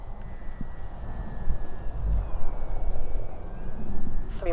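An Arrows 850mm P-51 model airplane flying at full throttle into a climb, its engine a continuous whining drone at moderate distance that swells and shifts in pitch as it passes.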